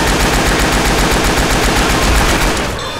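Sustained automatic gunfire rattles loud and continuous at a tank in the co-op zombie shooter Left 4 Dead 2, rapid shots blurring into one roar that thins slightly at the end.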